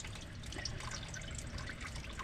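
Engine coolant (glycol) dripping and trickling from a removed hose on a 2018 Dodge Journey during thermostat work, a steady wet pattering that stays fairly quiet and continuous throughout, with no talking.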